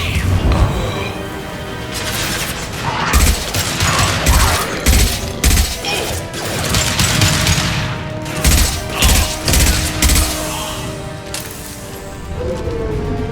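Gunfire and a concussive shot in Mass Effect 2, rapid bursts of shots and heavy booming impacts in clusters over a steady background, loud and close, with voices calling out in between.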